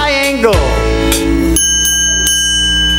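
A triangle struck within a preschool rhythm band, its bright metallic ring sustaining and decaying behind a sung children's song with instruments and singing voices throughout.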